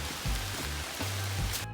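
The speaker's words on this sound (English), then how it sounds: "rain" Rain falling during a hike on the Appalachian Trail, a steady broadband hiss of drops close by with a few soft low thumps, no voices.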